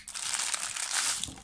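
Plastic packaging for fingerless fishing gloves crinkles and crumples continuously as the gloves are pulled out, a close, steady rustle with no talking.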